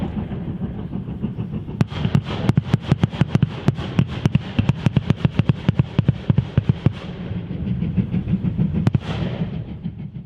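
A rapid series of sharp, loud bangs of railway torpedo detonators going off, cracking in irregular bursts over a steady low rumble, with one final bang after a pause.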